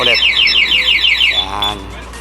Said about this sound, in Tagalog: Pangalawang galaw, mag-a-alarm siya sa remote, pati sa motor.